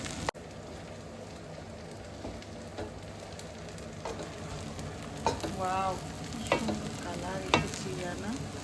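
Chinese fried rice is mixed in a pan, with fairly quiet scraping and stirring strokes over a faint sizzle, growing a bit busier toward the end.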